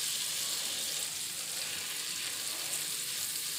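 Grated garlic sautés in melted butter on a tawa, giving a steady, even hiss of frying that runs unbroken and close from start to finish, with no voices.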